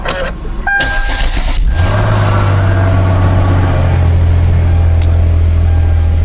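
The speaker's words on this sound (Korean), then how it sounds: "일단 시동은 잘 걸리고요" A Hyundai Genesis Coupe engine cranks and catches, then settles into a steady, loud idle with a low rumble that continues to the end.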